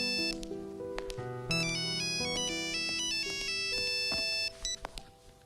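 A phone ringtone plays a bright, multi-tone melodic ring, loud and alone, repeating for several seconds before cutting off near the end.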